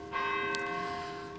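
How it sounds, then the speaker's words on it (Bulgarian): Church bells ring festively to announce the Sunday Divine Liturgy, a sustained, steady resonant peal with overlapping tones and a bright metallic strike partway through, heard alone. "Сега чуваме празничния камбанен звън, който възвестява началото на Светата Божествена литургия"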